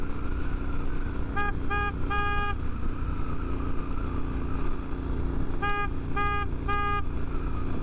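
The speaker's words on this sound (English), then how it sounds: "So I'm out on my road test for the new horn. Let's see what it sounds like." Two clusters of short Sound Bomb Mini aftermarket horn honks, three quick blasts each, cutting sharply over steady road and engine drone from a moving 2019 Triumph Scrambler 1200 XE motorcycle.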